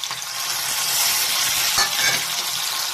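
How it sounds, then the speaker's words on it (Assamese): Ground spices frying in a pan for a village-style sabji, a continuous bright hissing sizzle heard close up, with a faint stir or scrape near the middle and no voices. "মছলাকেইটা ভালকৈ ফ্ৰাই কৰি ল'ম।"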